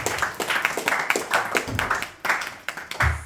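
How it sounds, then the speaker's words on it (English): A small gathering at a Bhakti Vriksha devotional meeting breaks into applause, scattered individual claps close by and uneven in rhythm, with faint background voices. "Please give a round of applause to Priyankam Mataji."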